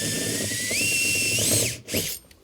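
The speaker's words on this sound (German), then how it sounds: "Den Tieftöner entfernen wir mit einem 5er Bohrer und da nehmen wir die Nieten raus und durchbohren die Nieten." A 5 mm drill bit whining as it bores out rivets holding a woofer in a VW Golf 6 door, a steady high-pitched power-drill tone rising in pitch, then a couple of brief bursts as it breaks through.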